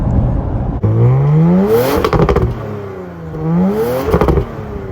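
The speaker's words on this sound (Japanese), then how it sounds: "スポーツエグゾースト装着なので非常に気持ちいい音がですね味わえるというところで、せっかくなのでマフラーサウンド少しご紹介しますと" Porsche Macan GTS with sports exhaust revved hard twice, each rev sweeping up in pitch then dropping back with crackling pops, loud and close with a settled idle between.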